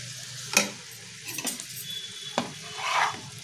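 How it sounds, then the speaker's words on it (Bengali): Rice being stir-fried with vegetables in a pan, a soft sizzle under a few scraping stirs and clinks of a spatula against the metal. "এবার আমরা এর মধ্যে হাফ রাইস দিয়ে দেব।"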